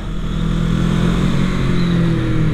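Kawasaki Z650 motorcycle engine revving hard through a run of quick upshifts, a loud steady near drone with rising and falling pitch steps and no voices.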